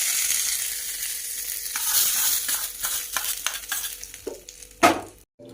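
Hot tempering of mustard seeds and curry leaves sizzles loudly, then crackles and spits as it is poured into sorghum idli batter, fading to a brief hiss before the sound drops away.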